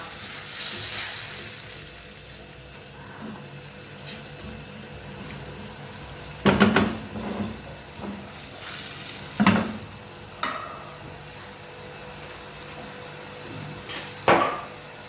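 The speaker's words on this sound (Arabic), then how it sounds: "نخليها شويه تقلى" Tomato frying in a pan for an Algerian pepper felfla, a soft, constant sizzle underneath, punctuated by a few louder knocks and scrapes of a utensil against the pan at irregular intervals, with no speech.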